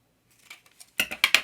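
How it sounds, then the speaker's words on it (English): Scissors cutting layered paper into a tag shape for a paper-crafting project: a few faint soft snips, then four crisp close snips in quick succession at the end, with no talk. "Cut this so it looks like a tag."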